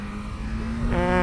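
A 1989 Suzuki GSX-R 750 motorcycle engine hums steadily up close, with its pitch climbing sharply near the end as it revs harder.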